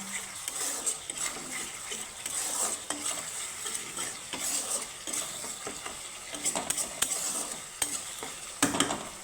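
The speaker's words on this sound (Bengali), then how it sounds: "এখন মশলাটাকে আমি সুন্দরভাবে কষিয়ে নিব" Masala spice paste cooked down without water in a pan, fried and stirred continuously, giving a steady soft sizzle with frequent scraping and tapping of a utensil throughout, close and moderately quiet, no talk.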